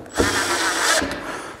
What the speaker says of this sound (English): I use my impact to put them back.